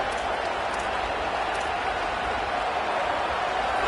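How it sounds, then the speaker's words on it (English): Broad roar of a stadium crowd at a college football game, a steady wash of massed voices and cheering that holds at an even level throughout. "This crowd ready to make its presence known."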